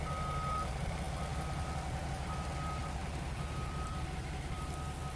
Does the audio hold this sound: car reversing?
yes